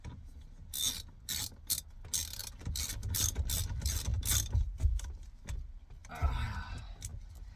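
A nut on an Audi S5 V8 is run back on with a hand ratchet, a close series of quick clicking ratchet bursts and metallic rattles with short pauses between them, with no talk.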